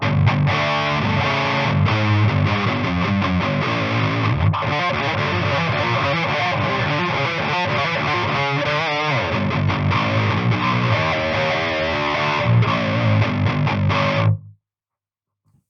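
Heavily distorted electric guitar through a Joyo Zombie distortion pedal plays a thick, crunchy riff with sustained chords, loud and alone, then cuts off abruptly near the end.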